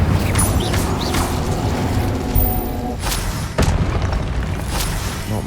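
Repeated Confringo and Incendio spell blasts in the Hogwarts Legacy video game, a string of loud booming impacts and crashes over a dense rumbling battle din, with sharper bursts near the middle of the stretch.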